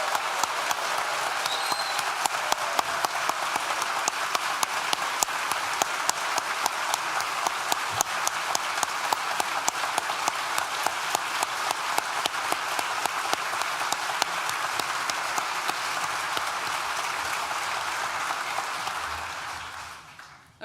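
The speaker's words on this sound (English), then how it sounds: "let's have a collective round of applause" Sustained applause from a graduation audience at a Nottingham Business School ceremony for Nottingham Trent University, dense steady clapping with sharper individual claps standing out, fading out at the very end.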